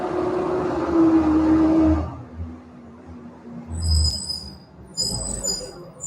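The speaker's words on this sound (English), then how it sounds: "Got the garbage truck going by" A garbage truck rumbles past with a low engine drone that fades after a couple of seconds, followed by faint traffic noise and high brake squeals.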